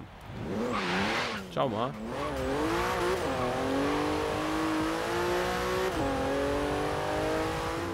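Porsche engine in the Forza Horizon 3 racing game, revving hard with rising and falling pitch through gear changes, then a long steady climb to a high whine, with a brief tire squeal and a short spoken remark.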